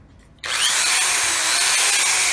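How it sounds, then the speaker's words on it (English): A Makita 5 amp electric hammer drill, powered through an inverter from a toolbox battery pack, starts abruptly after a short quiet moment and runs at a steady high-pitched whine, loud and close. "Makita 5 amp electric hammer drill."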